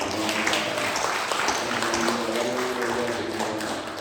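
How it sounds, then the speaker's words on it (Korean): Congregation clapping during a Korean church Sunday worship service, a moderately loud, even wash of applause with faint tonal music-like sounds underneath, continuing for a few seconds. "감사와 찬송, 영광의 박수 올려드리겠습니다"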